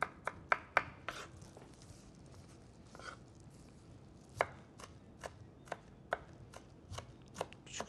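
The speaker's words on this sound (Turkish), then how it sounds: "Biraz daha inceltelim şunları." A knife finely chopping onion on a cutting board while a chef prepares Mengen soup, with sharp irregular taps in short bursts, near and clear, and no talking.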